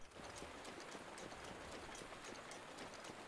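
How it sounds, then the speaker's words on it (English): Rain in Zelda: Breath of the Wild, a soft steady patter with faint rhythmic tapping, quiet and even throughout. "I'm waiting for it to stop raining."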